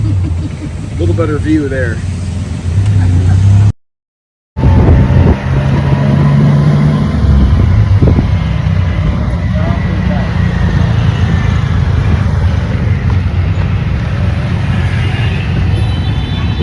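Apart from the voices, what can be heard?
tuk-tuk ride through Bangkok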